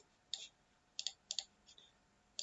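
Several crisp mouse clicks, a single one then a quick group of three and a faint final tap, each sharp and close with quiet room tone between, made while choosing File and Save As in the Brackets code editor.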